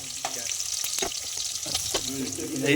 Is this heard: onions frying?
yes